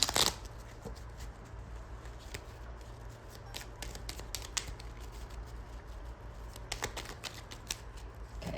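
A tarot deck is shuffled close by in a continuous, soft papery riffle with flicking cards, steady for several seconds with no talking.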